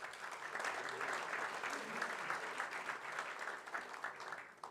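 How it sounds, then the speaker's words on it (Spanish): An audience at a Rotary Club gathering in Buenos Aires claps in a steady, moderately loud wash of applause that lasts several seconds without a break. "Un aplauso por esta iniciativa."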